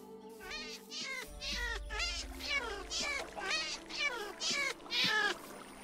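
A cat meows repeatedly in the game Minecraft, a rapid series of about eight close, wavering meows, some caterwaul-like, with a low rumble underneath.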